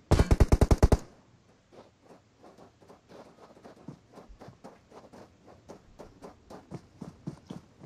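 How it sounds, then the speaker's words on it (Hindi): Video-game gunfire from a scrim match: an opening burst of rapid automatic shots, loud and tightly spaced, followed by a long string of fainter, more distant single shots and footstep-like thuds. "ये फायरिंग कर दी"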